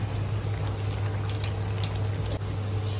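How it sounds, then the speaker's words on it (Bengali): Onion fritters deep-fry in oil on a stove, a steady close hiss of bubbling oil with a low hum underneath and a few faint crackles. "এই তো পেঁয়াজিগুলো ভেজে নিচ্ছি, দেখেন দুই চুলায় দিয়ে দিলাম"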